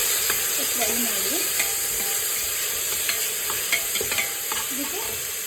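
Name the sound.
onion, curry leaves and tomato frying while stirred in pan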